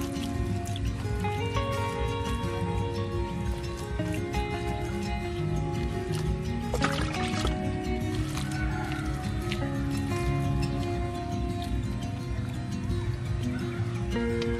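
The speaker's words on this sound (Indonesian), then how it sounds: "lalu kita siram pakai air." Water poured over freshly planted turmeric in a polybag of soil, a continuous close splashing and trickling with dripping texture, steady throughout with no talk.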